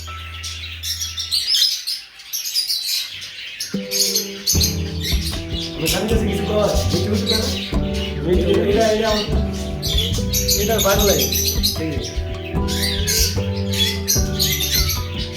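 A pet lory parrot chirps and squawks close by in lively bursts of shrill calls, while people talk over it throughout.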